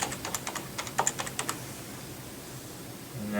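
A computer keyboard being typed on as a new Windows 10 account is set up on a freshly built PC: a quick run of light, close key clicks for about a second and a half, then near silence.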